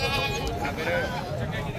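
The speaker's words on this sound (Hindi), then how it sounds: "ये देखें माशाल्लाह बकरा" A goat bleats at a busy bakra mandi livestock market, close and mid-loud, partly masked by someone talking over steady crowd murmur.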